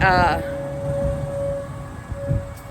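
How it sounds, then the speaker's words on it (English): A steady civil defense siren tone drones in the distance throughout during a Saturday noon siren sounding, with a brief voice at the start and faint low thumps beneath. "Oh, it must be noon if y'all can hear the sirens going off."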